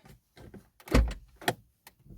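The central locking on a Renault Grand Scenic 2 1.5 dCi gives a few clunks as it locks and unlocks, with one strong thud near the middle and lighter clicks around it, close by in a quiet setting.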